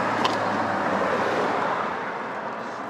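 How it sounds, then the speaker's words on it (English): Steady roadway traffic rumble on a windy street, broadband wind noise buffeting throughout at a constant loud level with a faint tonal hum underneath, no speech. "All right, super windy, all this road traffic."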